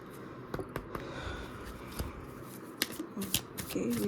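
Romance Angels Oracle cards being shuffled by hand: soft, quiet riffling and slapping clicks in scattered bursts, close up and faint.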